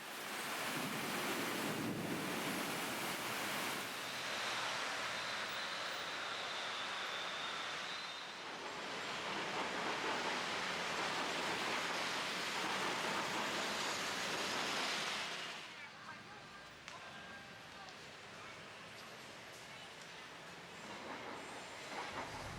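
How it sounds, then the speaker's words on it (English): Loud, steady roar of road traffic on busy Phaya Thai Road just down from Ratchathewi BTS station in Bangkok, a dense wash of engines and tyres that eases slightly in the final stretch. "I'm on a very noisy Piatai road just down from Ratchathewi BTS station"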